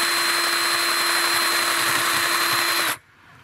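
A cordless drill bores a hole through a house wall for an outdoor electrical outlet, a loud, steady high-pitched whine running continuously for about three seconds before cutting off abruptly.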